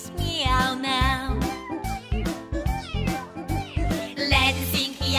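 Cat meows come in a children's nursery-rhyme song as repeated, tuneful mews set to a beat, probably voiced or sung to imitate a kitten rather than a real cat.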